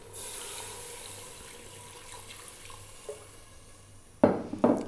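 Water runs quietly into a pressure cooker holding mutton, potatoes and cilantro, then two louder splashing bursts near the end, with no voices.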